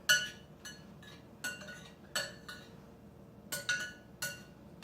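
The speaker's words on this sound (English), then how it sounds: "give that a good stir" A spoon clinks against a bowl of cheesy corn chowder, sharp metallic taps and scrapes coming in an uneven series of about ten close, fairly quiet strokes with no talking.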